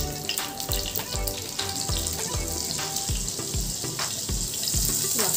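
Butter for butter chicken dropped into hot oil in a pan, giving a loud, continuous hissing sizzle that runs the whole way over a rhythmic musical beat.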